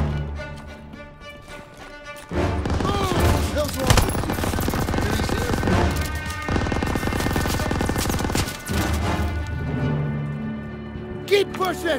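Enemy machine gun fire in a WWII street battle in Call of Duty: WWII, loud rapid bursts and gunshots rattling almost without pause, with soldiers shouting over the fire.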